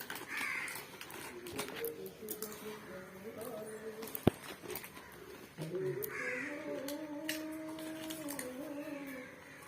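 Repeated harsh caws from a crow ring out in bursts over an outdoor scene, fairly close, with people talking underneath and a sharp knock midway.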